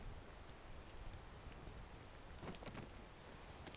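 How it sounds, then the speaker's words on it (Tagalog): Steady rain pattering in the video game PEAK, an even wash of drops with scattered heavier splashes and a faint rumble underneath. "Oh, umulan!"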